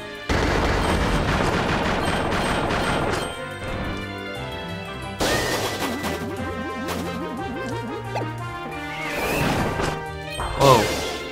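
A sandcastle gets smashed in the video game Kirby's Return to Dream Land: a sharp crash, then a run of rapid thwacking hits and a later impact, heard over game music.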